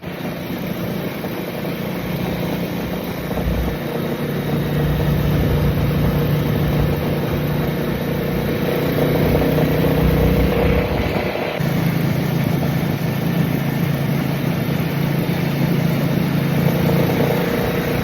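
Motorbike ridden in the rain, a steady engine drone with a low hum and a constant broadband hiss of wind and wet road, loud and close, shifting slightly in pitch partway through, with no talk.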